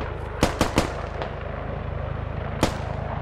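Gunfire in an exchange in the video game Squad: three quick sharp shots in a row, then a lone shot about two seconds later, over a steady low background rumble.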